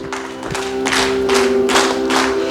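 A church congregation claps hands in a steady rhythm while singing a praise hymn at a revival service, loud regular claps over sustained organ-like tones and voices.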